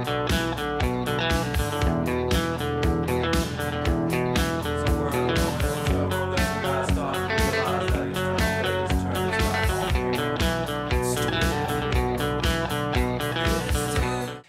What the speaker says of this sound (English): All right, so all together with the music, the intro sounds like this.